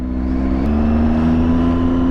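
A car drives past on the road: a steady, fairly loud engine drone with a rising whine that holds through the short moment, no talking.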